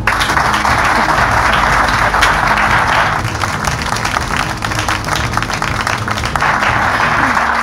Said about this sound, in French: le papa, on peut l'applaudir